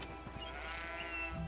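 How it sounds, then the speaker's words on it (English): A sheep in the video game Greedfall bleats in a soft, wavering call over a steady low hum, with a faint second bleat near the end. "Hello, little sheeps."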